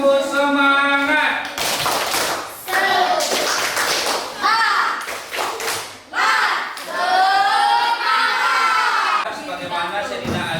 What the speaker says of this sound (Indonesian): Mari kita mulai. Tepuk semangat.